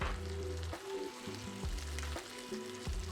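Sausages laid in a hot pan sizzle and crackle steadily and close, a dense frying hiss for a few seconds with no talking, made for a Flamin' Hot Cheeto elote-style hot dog.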